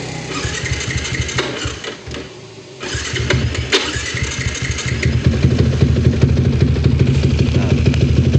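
A Yamaha Y15ZR motorcycle, fresh from a water pump install and known for hard starting, cranks with a whirring starter, stumbles briefly, then fires and settles into a loud, steady idle close by.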